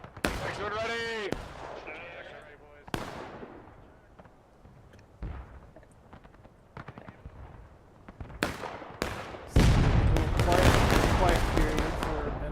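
Gunfire in the video game War of Rights: scattered musket shots crack at varying distances, some sharp and near, others distant, with a dense loud volley near the end and voices heard at times.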